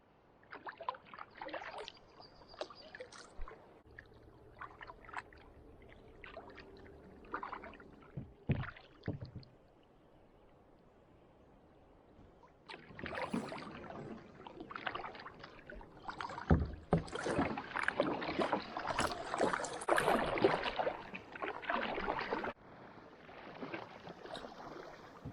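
Canoe paddle strokes dip and splash on an Adirondack river in early morning, first sparse and quiet, then a denser run of close, steady strokes with water swirling and trickling around the hull.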